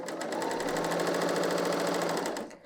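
A BERNINA L 890 sewing machine runs in one continuous, close buzzing burst as it sews a seam on a woven top, then stops abruptly.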